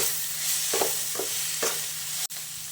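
Bitter gourd frying in a pan for a palya, a steady soft sizzle with a few scraping stirs of a spoon and one sharp tap, no voices.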